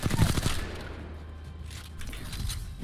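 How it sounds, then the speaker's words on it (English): Hip-fire bursts from an R-301 rifle in the video game Apex Legends, rapid automatic shots in short bursts at the start and again near the end, with quieter game ambience between. "Even has a pretty good accurate hip fire at this range."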